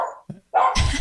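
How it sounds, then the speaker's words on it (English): A pet dog in a house lets out a couple of sharp barks, loud and close, the second one longer and rougher. "That's my dog."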